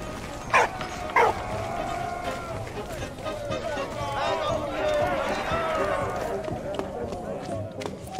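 A dog in the Valiant Hearts World War I video game gives two short barks near the start, followed by game music and sound effects. A voice talks over the whole scene.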